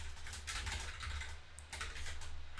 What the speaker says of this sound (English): Literally what you're typing right there.